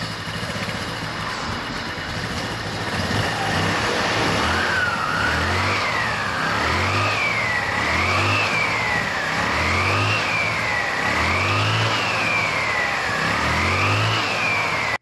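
A scooter engine with a continuously variable transmission revs in a series of rising and falling throttle bursts, loud and close, over a steady running drone.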